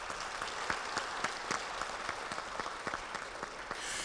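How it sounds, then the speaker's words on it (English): A large audience applauding steadily, dense clapping that holds at an even level throughout, heard from within the hall. "Please give yourselves a round of applause."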